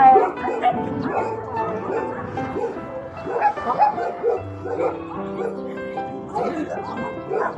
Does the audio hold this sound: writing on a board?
no